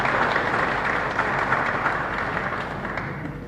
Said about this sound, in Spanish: Un aplauso para Julio.